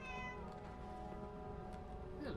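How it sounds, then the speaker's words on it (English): A cat meows in Fallout 4, a drawn-out tonal cry followed by a shorter rising meow, heard faintly against a low background. "Are you scaring the damn cats again?"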